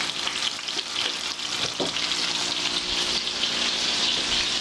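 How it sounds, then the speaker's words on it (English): A pork chop sears in a hot pan with a steady, loud sizzle and crackle, close and continuous throughout, with occasional brief utensil clatter and no voices. "Now we're going to put the pork chop directly in the pan."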